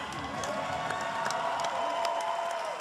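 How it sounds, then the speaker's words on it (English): Crowd noise from spectators at a Rise Championship fight night, cheering and applause rising steadily across the arena after the bout, broad and continuous with scattered whoops and no clear individual voices. "give them a big round of applause"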